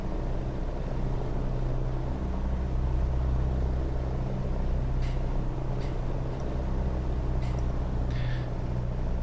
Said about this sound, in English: It's not fluctuating anymore. The engine runs more smoothly.